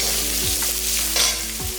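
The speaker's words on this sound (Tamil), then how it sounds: "போட்டு எல்லாமே நல்லா வதக்கிடலாம்." Curry leaves, crushed garlic and urad dal sizzle steadily in hot oil in a pan, with a spatula scraping and stirring a couple of times, close and continuous.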